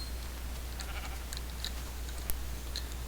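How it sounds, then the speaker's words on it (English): A freshly cloned sheep in Minecraft with the Equivalent Exchange mod bleats faintly a few times over a steady low hum and background hiss, with one brief sharp click. "So you can see another sheep was just cloned."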